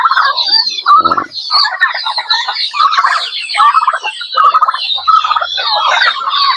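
Turkeys on a farm, breeder hens among them, call together in a dense flock with overlapping bird voices and gobbling, steady and fairly loud throughout with no talk.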